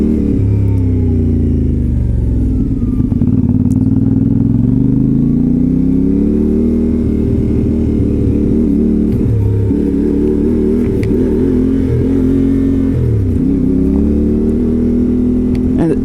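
A CFMOTO 450MT adventure motorcycle ridden along a muddy track, its mid-pitched engine droning loud and close, rising and falling as the throttle opens and eases, over a steady wash of rumble.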